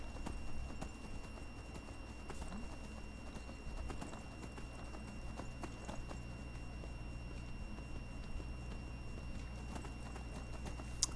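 A horse's hooves clip-clop steadily in the video game Skyrim as it is ridden along, a continuous even rhythm of footfalls under faint ambient game sound.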